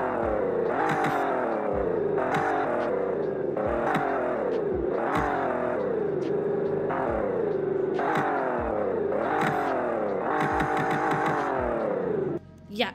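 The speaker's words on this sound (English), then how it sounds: "Listen to this rev though" An Alfa Romeo Giulia Quadrifoglio manual sports sedan engine revs repeatedly, climbing in pitch through the gears with brief drops between shifts, loud and close, ending with a short clunk.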